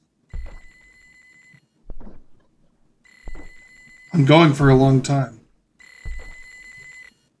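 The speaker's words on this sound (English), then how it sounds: "It's getting louder. Oh, it's a phone." A telephone rings inside a horror video game demo, sounding as a series of separate electronic ring bursts with pauses between them. Someone talks loudly over one of the rings.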